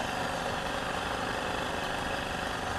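A small Chinese steam engine driven by a homemade steam boiler runs fast, giving a dense, constant mechanical whir and hiss close up, steady and loud throughout with no voices.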